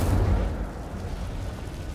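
A fire spell cast in a wizard game erupts as a heavy, booming burst at the start and then rolls into a low, fading rumble.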